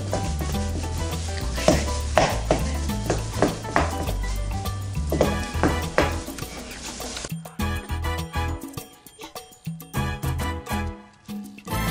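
Four hamburgers sizzling on a grill, a steady crackling fry with clinks of utensils and a musical backing throughout; the sizzle thins out in the second half.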